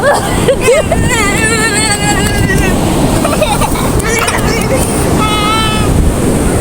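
Sea surf rolls in steadily with broadband washing noise, flooding into a palace, mixed with wind buffeting and lively voices and shouts nearby.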